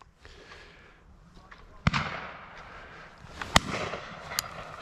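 A single sharp shotgun report cracks out at a driven pheasant shoot in Herefordshire, with a second sharp bang following a moment later over faint outdoor background noise.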